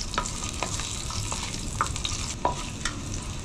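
Garlic fries in oil in a pan with a steady close sizzle, punctuated by a few brief stirring scrapes and clinks, no voices.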